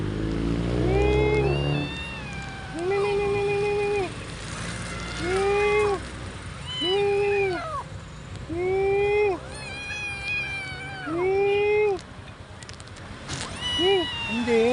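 A kitten meows repeatedly in high, plaintive cries, close by and loud, with a voice occasionally heard in the background.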